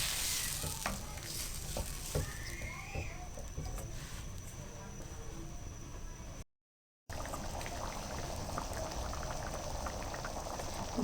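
A pot of chana dal bubbles softly on the stove, a faint, continuous simmering burble with light liquid pops, briefly dropping out and then resuming.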